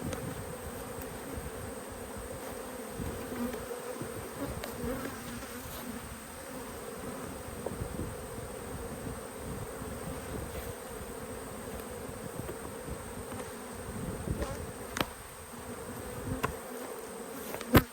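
A dense swarm of honey bees buzzes steadily up close at a hive, a constant droning hum with occasional soft knocks, and no talking.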